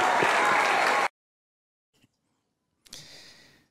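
Crowd applause and cheering at a political speech in Nicaragua, a loud dense burst of clapping that cuts off abruptly, then a brief silence before softer crowd noise returns.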